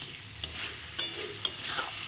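Fried pointed gourd being stirred with spices in a pan, a soft continuous sizzle broken by a few scraping spatula strokes, close and alone with no talk.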